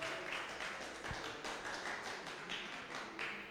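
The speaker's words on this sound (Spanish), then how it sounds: "démosle un fuerte aplauso otra vez" A church congregation applauds together in a steady, continuous wash of hand claps that fills the space, heard at moderate distance with no voices over it.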